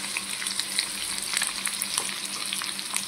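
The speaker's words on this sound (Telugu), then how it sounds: "హీట్ ఎక్కగానే మనము ఎల్లిపాయ ఒక 4 రెమ్మలు ఎల్లిపాయ తీసుకొని వేసేద్దామండి." About four garlic cloves sizzle in hot oil in a pan, with a dense, continuous close crackle and bright pops scattered throughout. No voices are heard.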